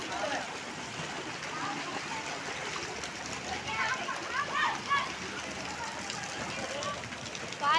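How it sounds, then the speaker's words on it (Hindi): Rainwater flows through a flooded street in Bhinmal during monsoon rain, a steady broadband wash of running water with light splashing throughout, while someone talks over it. "गली में पूरा पानी भर गया है।"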